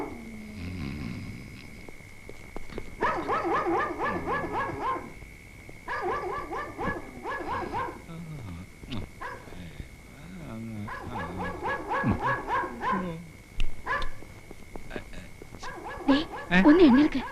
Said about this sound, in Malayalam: എന്താ പട്ടി വല്ലാതെ കുരയ്ക്കുന്നു.